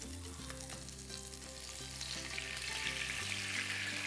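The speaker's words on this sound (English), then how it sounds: "Now I'm adding the garlic in here. I'm adding some wine." Garlic and wine sizzling in a pan, a steady close crackling fry that grows brighter and hissier toward the end, with a low hum underneath.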